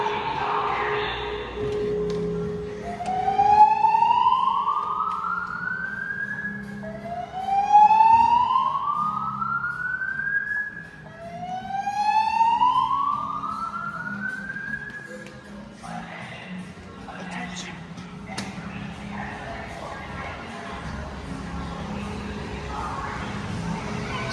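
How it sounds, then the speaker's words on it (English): A building fire alarm sounds its evacuation signal after sprinklers activate, giving three loud rising whoop sweeps in a row. The tone then fades into a steady background drone. "only this building's fire alarms are going off"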